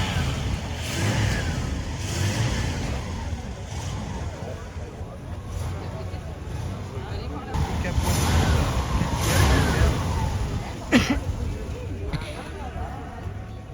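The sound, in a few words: Cadillac car with big 8.2 litre engine driving past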